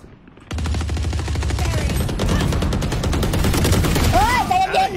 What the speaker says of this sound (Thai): มันยิงซ้ำศพอ่ะ